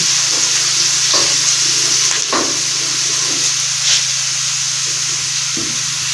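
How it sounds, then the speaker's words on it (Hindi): Steady, dense sizzling of garlic and ginger paste frying in hot oil, with occasional stirring scrapes and pops, close and continuous with no talking. "तो हमारा ऑयल अच्छी तरह से मामूली गर्म हो चुका है। अभी इसमें लहसुन और अदरक का पेस्ट हम डालते हैं।"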